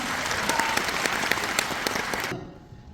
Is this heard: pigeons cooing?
no